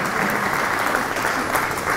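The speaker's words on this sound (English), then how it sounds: "We should clap for him also." Steady, dense audience applause at an event, loud and continuous throughout with no pauses or individual voices standing out.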